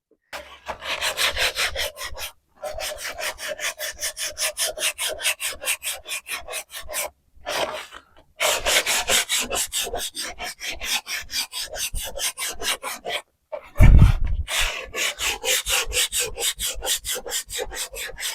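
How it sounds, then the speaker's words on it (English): Steady back-and-forth rasping of sandpaper on painted wood furniture, in rhythmic strokes with a few short pauses, close up. "we're going to do a little bit of sanding"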